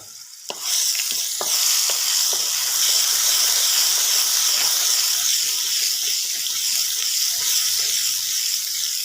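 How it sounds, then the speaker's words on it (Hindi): Garlic and ginger paste sizzling and frying in a hot pan of oil with cumin and fennel seeds, a sharp burst as it goes in, then a steady loud hiss with light stirring clicks throughout. "अब जी हम इसमें डालते हैं पूरी टीस्पून लहसुन और अदरक का पेस्ट।"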